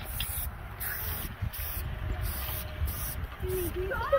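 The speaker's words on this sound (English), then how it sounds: "I want to spray on the ground. Paint." Outdoors at Cadillac Ranch in Texas, a spray paint can hisses in a steady run of short bursts over wind noise and outdoor background.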